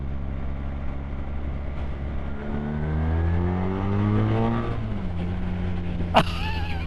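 A BMW R1300R motorcycle accelerates hard in third gear in road mode, its engine note climbing steadily in pitch for several seconds before easing off, heard from the rider's position with wind noise and no talk.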